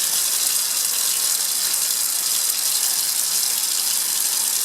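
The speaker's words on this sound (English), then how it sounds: "That's done by pouring it in all at once, followed by agitation, and then just pull the water out of it again." Warm water poured all at once onto a copper carbonate precipitate and agitated, a continuous bright splashing gush, loud and close, steady throughout with no talk.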